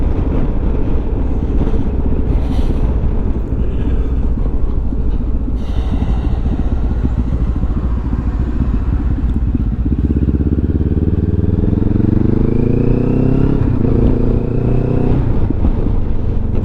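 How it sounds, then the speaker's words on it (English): Friday afternoon road traffic rumbles loud and close as a continuous dense roar, with a motorcycle-like engine rising in pitch toward the end and occasional clatter. "Friday afternoon traffic's building up already."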